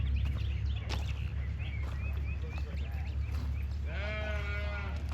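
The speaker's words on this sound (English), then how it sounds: "I hear sheep. I hear sheep." Sheep bleat several times against steady outdoor farm background noise, with a longer wavering bleat near the end, moderately close.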